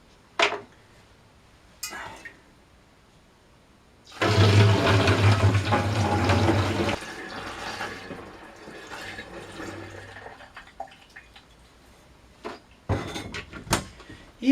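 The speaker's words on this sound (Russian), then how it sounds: "Переливаем вот такой вот 20-литровый бутыль." Liquid, grape-pomace distillate being diluted for chacha, pours into a 20-liter bottle in a loud gushing burst of about three seconds, then a quieter trickle, with a few knocks before and after.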